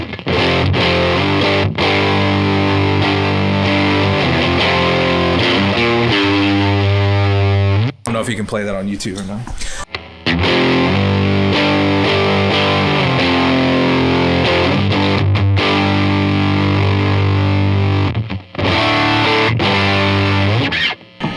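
Heavily distorted electric guitar chords through a distortion pedal ring out loud and sustained, with a short burst of garbled noise partway through and a brief spoken remark.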